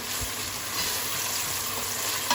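Chopped onion and tomato fry in a pot for chicken rice, giving a steady, close, dense sizzle with a faint clink near the end.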